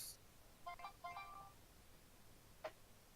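Phone ringing faintly: a short electronic ringtone melody of a few quick tones, followed by a single brief beep after a pause, quiet over background hiss.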